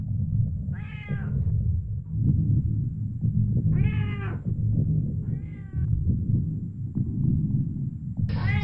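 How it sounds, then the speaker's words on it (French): Cat meowing in a horror film soundtrack, three drawn-out, distinct meows repeating over a low, throbbing pulse like a heartbeat. "on va entendre les miaulements d'un chat"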